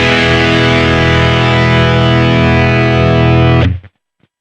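Electric guitar through a Boss GP-10 guitar synth set to a hex fuzz distortion tone with noise suppression, a loud sustained saturated chord ringing steadily and then cut off cleanly to silence near the end.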